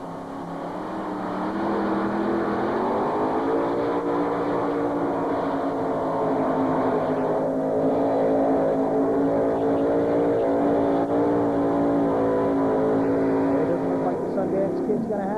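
A 1985 Peterbilt semi-tractor, a 20,000-pound pulling vehicle at a tractor pull, roars with a sustained loud engine note that rises in pitch and holds, heavy and continuous, with an announcer's voice at the event.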